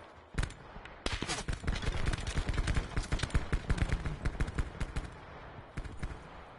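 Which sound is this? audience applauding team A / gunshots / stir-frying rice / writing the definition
gunshots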